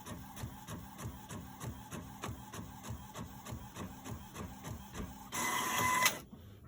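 Epson 7720 converted to a sublimation printer printing, with a steady run of rhythmic mechanical print-head passes, close and moderately loud, ending in a brief burst of higher whirring before it stops.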